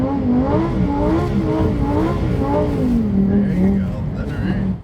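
A Lamborghini Huracan STO on studded tires drifts on an ice track in Quebec, its engine holding a loud, steady howl that swells and eases with the throttle, heard close inside the car.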